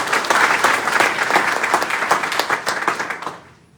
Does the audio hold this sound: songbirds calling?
no